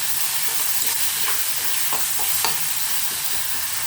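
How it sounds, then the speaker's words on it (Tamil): Onions and ground masala paste sautéing in a pan, giving a steady loud sizzle with repeated scraping stirs of a spoon across the pan. "கொஞ்சம் இந்த மசாலாவோட வெங்காயத்தோடு இந்த மசாலா சேரட்டும், கொஞ்சம் வதக்கிப்போம்"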